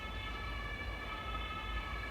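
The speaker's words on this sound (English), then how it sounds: "Sorry, ambulance." An ambulance siren passes outside, heard as a faint, steady wail through walls against a low rumbling background, with no talking.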